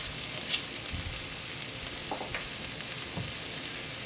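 Mushrooms brown in pork fat in a pan with a soft, steady sizzle and a few light stirring taps, close but gentle, with no talk.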